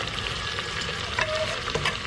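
Tomatoes fry and sizzle in a pan with garlic and onion while being stirred. Close, steady crackling carries a few sharper clinks and scrapes of the utensil, and no one speaks.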